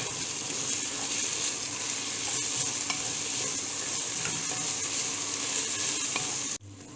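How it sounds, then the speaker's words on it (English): Onions, tomatoes, chilies, ginger and garlic sizzle steadily in a hot pan while being stirred, a loud continuous frying hiss with faint scraping that stops abruptly near the end. "let's add the chilies, ginger and the chopped garlic to this onion mixture. Give it a good stir."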